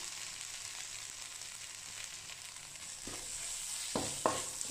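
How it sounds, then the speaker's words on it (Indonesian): Kaffir lime leaves and lemongrass sauté in a hot pan, a soft continuous sizzle with a few scraping stirs and clacks of a utensil near the end. "Kita tumis sampai si wangi dari si daun jeruk, dari serai sampai keluar dulu ya."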